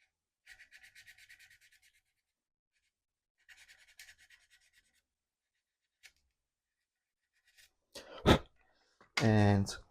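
Light hand-sanding of a small part for a 1/48 Eduard Revell Tornado GR.1 plastic model kit comes as two short bursts of faint, close rubbing strokes, followed later by a few knocks and a brief loud noise at the end.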